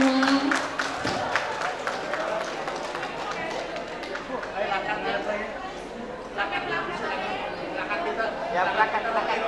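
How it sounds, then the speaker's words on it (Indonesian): An audience at a formal signing ceremony claps and cheers in a dense, steady burst of applause that runs throughout, with a crowd murmuring and a voice speaking over it. "Beri aplaus untuk kita semua"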